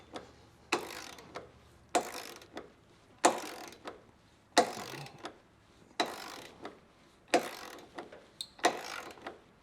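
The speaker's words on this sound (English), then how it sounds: "adjust your torque wrench accordingly, and we'll get these all torqued down" A torque wrench with a socket tightens the hitch receiver bolts on a 2023 Chevrolet Traverse, giving a steady series of short ratcheting clicks, about eight sharp bursts spaced roughly a second apart, close and fairly quiet.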